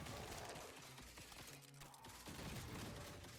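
Rapid bursts of weapon fire crackle in the Grind Survivors video game, a dense, steady rattle of shots with a brief gap midway, playing quietly on its own without any talk.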